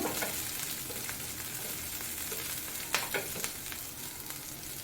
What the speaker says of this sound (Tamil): வெங்காயத்தை லேசாக வதக்கி விட்டுக்கோங்க